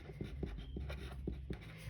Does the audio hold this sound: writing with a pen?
yes